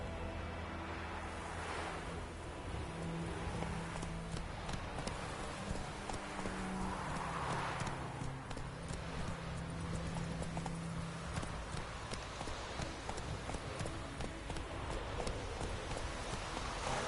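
Horse hooves gallop in a steady, rapid clip-clop across the whole stretch, loud and close, from the video game The Witcher 3, with a low wash of ambient wind or surf running underneath.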